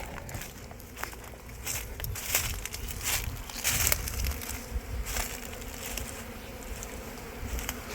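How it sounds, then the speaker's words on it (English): A swarm of honeybees on a shed floor in Lakeland, Florida drones in a steady dense buzz close by, mixed with scattered crackles and shuffling footsteps, with no talk. "that's a lot of bees"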